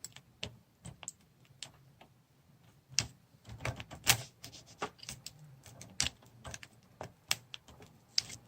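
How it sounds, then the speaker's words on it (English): A blade cuts through the plastic casing of a Brother MFC-J4510DW printer's ink absorber, making a series of sharp, irregular clicks and snaps, close up and quiet between the cracks. "So let's see if I can gently cut through the plastic here"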